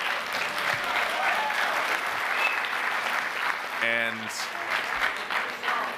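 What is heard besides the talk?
audience applause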